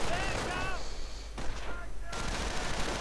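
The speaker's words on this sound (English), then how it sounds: "now we have the riflemen moving in, firing away" Rifle fire from riflemen in a strategy video game, dense rattling shots mixed into a busy battle soundscape, with a commentator talking over it throughout.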